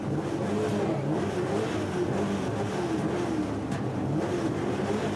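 Onboard a BMW race car at Vallelunga during a Superstars race, the engine roars steadily and loudly, its pitch rising and falling through gear changes under constant wind and mechanical noise.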